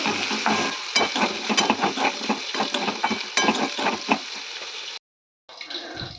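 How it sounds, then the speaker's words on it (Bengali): Bitter gourd and potato fry in oil in a pan, with a steady close sizzle broken by repeated scraping stirs of a spatula, then a brief silence before the sizzling and stirring resume. "আর এই যে এখানে আমার করলাটা মোটামুটি ভাজা হয়েই গেছে।"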